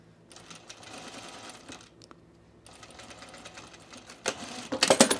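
Domestic sewing machine stitching a zip hoodie in short bursts, the motor whirring near and steady, pausing briefly, then ending in a louder, faster run.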